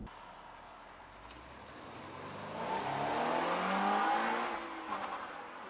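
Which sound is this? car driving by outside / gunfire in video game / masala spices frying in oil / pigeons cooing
car driving by outside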